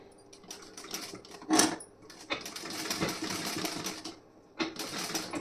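A sewing machine stitches the back panel of a blouse, running in quick bursts of dense mechanical whirring with brief stops between runs, close and clear with no talking.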